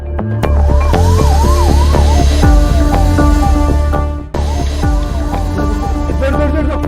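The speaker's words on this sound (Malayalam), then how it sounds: "വളരെ പെട്ടെന്ന് തന്നെ ഹൃദയവുമായി ആംബുലൻസ് ആശുപത്രിയിലേക്ക് കുതിക്കുകയും ചെയ്തു" An ambulance siren wails loudly nearby as it speeds through Kochi along a police-cleared route, its pitch rising and falling repeatedly over rumbling traffic noise.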